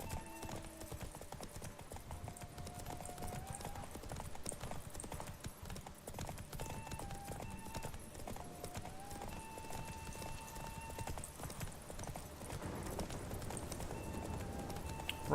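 Roach the horse gallops in The Witcher 3 video game, with steady rhythmic hoofbeats running throughout alongside game music and ambience, and a brief whinny-like cue.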